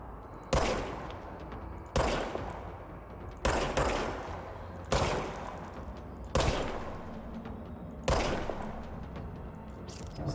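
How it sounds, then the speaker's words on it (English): The Service Weapon fires in the video game Control: six sharp, loud, close shots spaced about one and a half seconds apart, each followed by a short decaying tail, with no voices. "Fire service weapon."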